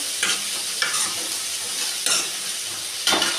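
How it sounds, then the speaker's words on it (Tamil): Onion and tomato sizzle steadily in a hot pan while a spatula scrapes through them in about four distinct stirring strokes, close and clear with no voices. "தக்காளியை நல்லா போட்டு கிண்டிக்கலாம்."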